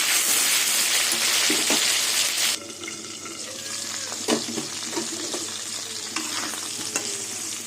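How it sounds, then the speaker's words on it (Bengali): Potatoes fry in hot oil with a pinch of salt for a Bengali pointed gourd and prawn dish, a loud, dense sizzle at first that drops to a quieter crackle with stirring scrapes and soft knocks, no voices. "তেল গরম হয়ে গেছে এবার আলুগুলো ভেজে নেবো অল্প করে নুন দিয়ে দেবো এবার আলু ঢেকে ঢেকে ভেজে নেব"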